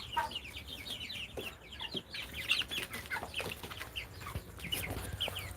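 Broiler chickens on a small poultry farm clucking and chirping in a dense, overlapping chorus, many short calls from several birds at moderate distance, quiet overall with no talking.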